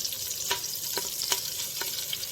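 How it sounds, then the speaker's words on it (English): Steady close sizzling and frying of collard greens in hot oil, with a few soft stirring knocks popping through the crackle. "I like to hear that like sizzle fry on them."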